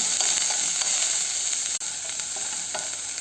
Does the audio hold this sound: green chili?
yes